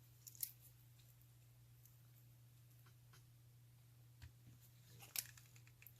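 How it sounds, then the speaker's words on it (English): Scissors snip through ribbon that does not unravel, giving two or three faint, quick cuts spaced seconds apart against a quiet room hum. "this ribbon doesn't unravel, so again, I'm just cutting what I need"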